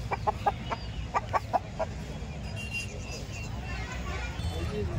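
Roosters and chickens at a busy country chicken market, a run of sharp clucks near the start, then a steady low background hubbub from the crowd with people talking.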